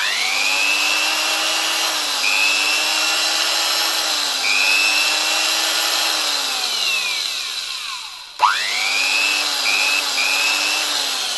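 A 1968 CEFANA PRCa6 electric drill runs with a steady high motor whine that shifts pitch a few times, briefly spins down almost to a stop, then is switched back on and revs up again.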